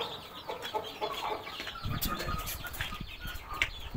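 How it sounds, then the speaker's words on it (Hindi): A hen with her chicks clucks softly while wings flap in brief rustling bursts, faint and close, with light scuffling throughout. "तो अभी हमारी जो मुर्गी है विद हर चूचे, ये जाने वाली है अपने नए घर"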